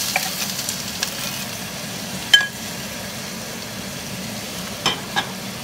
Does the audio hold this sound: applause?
no